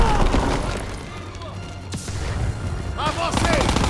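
Grenade blast in the Call of Duty WWII video game: a sharp boom followed by rumbling battle noise and distant gunfire, with voices shouting over the combat.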